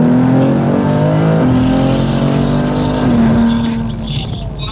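A 1200 horsepower car engine revs loudly and close, a sustained throaty roar with the pitch easing down and rising again, running continuously through the whole moment with no talking.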